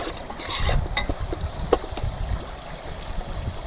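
Green chilies hit hot oil in a frying pan for chicken biryani, giving a steady sizzle with stirring and scraping, fairly quiet, no voices.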